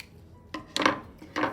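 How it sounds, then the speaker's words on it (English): Scissors snip through felt fabric in three short crisp cuts, close and clear with brief pauses between, no voices. "So I'll cut off enough fabric"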